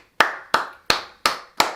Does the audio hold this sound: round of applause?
yes